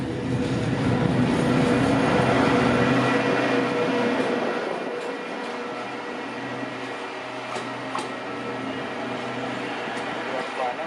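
A French-built track inclusive multi-tasking rail maintenance vehicle rolls past, a fairly loud broad rumble and rattle that swells early and then fades to a steadier, quieter hum.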